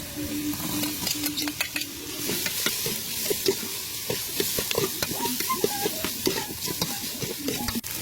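Ingredients for papaitan sautéing in a pan, a continuous close sizzle with frequent scrape and tap of a spatula stirring throughout, no speech.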